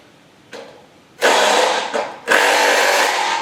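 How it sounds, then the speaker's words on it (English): An impact wrench fitted with a 17 mm socket whirs in short bursts while driving bolts in, a brief blip followed by two loud sustained runs up close. "the next thing you're going to need is an impact wrench with a 17 millimeter socket on it"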